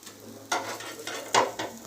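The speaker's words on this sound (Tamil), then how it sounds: "எந்திரி தோசை ஊற்றுன்னு சொன்னதுனால ஊற்றுறாங்க தோசையை" Dosa batter meets a hot pan in a home kitchen, giving a soft sizzle broken by a few sharp clinks and scrapes of utensil on metal, faint and close, with no talking.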